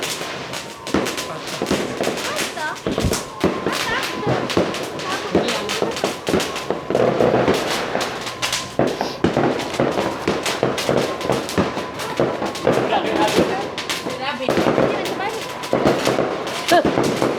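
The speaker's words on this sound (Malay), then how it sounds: "budak main bunga api tu" Fireworks set off by children on Hari Raya eve in Chanis, Malaysia, crackle and bang in rapid, irregular bursts, loud and close, with voices talking faintly underneath.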